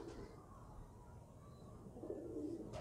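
Soft, low pigeon cooing rises and falls through a quiet, hushed room, fairly faint and close, with no talk over it.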